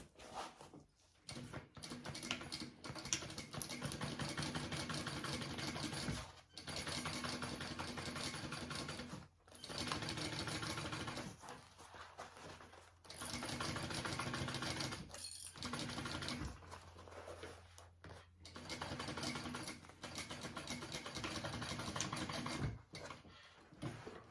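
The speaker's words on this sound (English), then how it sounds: "now I'm sewing along this edge over here" A sewing machine stitches along the edge of a tote bag in long rattling bursts separated by brief pauses, steady and close throughout.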